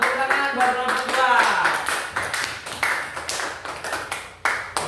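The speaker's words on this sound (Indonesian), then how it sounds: "Tepuk tangan buat kelompok 2." A school class applauds a student group in a religious-education lesson, a loud run of sharp, overlapping claps following a spoken announcement and tapering off over several seconds.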